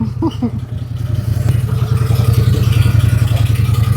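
A CF Moto Z Force 800 side-by-side, bought after catching fire, idles steadily with a low, even engine rumble, close and continuous, with a bit of light clatter near the start.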